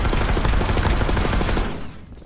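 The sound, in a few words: gunfire in Call of Duty video game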